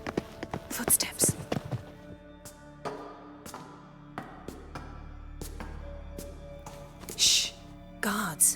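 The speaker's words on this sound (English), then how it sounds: "Footsteps." Footsteps in the video game Witcher 3: Wild Hunt, a run of crisp, close taps at an uneven walking pace with short gaps, over a low, quiet game ambience.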